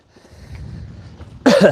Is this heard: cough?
yes